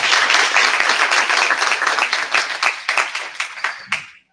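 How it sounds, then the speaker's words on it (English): Audience applause at an awards ceremony, a dense burst of many hands clapping that thins into scattered individual claps before stopping abruptly. "And another round of applause."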